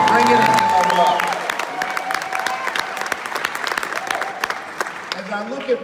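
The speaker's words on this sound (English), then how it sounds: "Give yourselves a round of applause." Audience at a motivational speech breaks into loud sustained applause and cheering, filling the room for several seconds before thinning out while a voice speaks over it.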